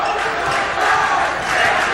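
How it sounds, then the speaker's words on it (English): A high school basketball crowd in a gym, the visiting Arlington fans, lets out a sustained mock cheer: a loud, continuous roar of many voices that swells and dips slightly over two seconds. "Not only a cheer from the Revere crowd, but a mock cheer from the Arlington crowd for their first basket."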